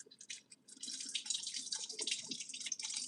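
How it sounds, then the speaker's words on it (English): Water from a kitchen tap splashes while food is rinsed, an irregular close-up patter and trickle that starts in short bursts and then runs steadily without a break. "I'm gonna rinse this off"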